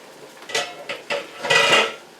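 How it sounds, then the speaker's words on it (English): A metal lid comes off a large canning pot while making homemade vegetable salsa: several sharp clanks and scrapes of metal on metal, close and fairly loud, with no talking. "I'll remove the lid for that last 5 minutes"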